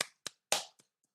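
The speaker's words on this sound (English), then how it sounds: "It's me clapping now." Hands clapping through a noise gate: four or five sharp, isolated claps with abrupt cutoffs and dead silence between them, the last one faint.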